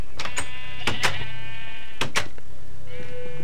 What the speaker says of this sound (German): Draußen Schaf ist auch noch da.